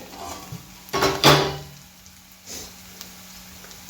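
A lid lifted off a pan of bitter gourd (karela) sabzi makes a brief metallic clatter with a short ring, then a quiet hiss of the cooking vegetables lingers softly.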